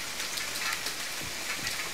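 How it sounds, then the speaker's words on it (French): Steady rain falls in the survival video game The Forest, a soft, continuous hiss of drops with faint low patters, quiet and alone with no voices. "Ah il pleut toujours hein."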